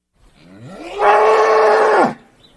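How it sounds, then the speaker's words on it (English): A Texas Longhorn steer gives a single loud, drawn-out moo lasting about a second, rising from a low groan and then cutting off, heard close and alone. "It's the sound of a Texas Longhorn steer."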